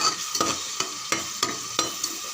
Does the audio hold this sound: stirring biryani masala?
yes